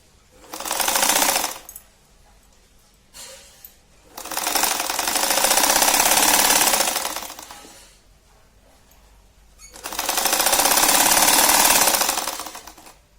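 A sewing machine stitches a kitchen hanging towel with red piping fabric in three runs: a short burst, then two longer steady stretches of close, rapid whirring, separated by quiet pauses.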